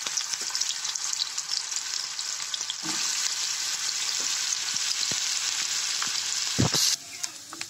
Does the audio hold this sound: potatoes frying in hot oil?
yes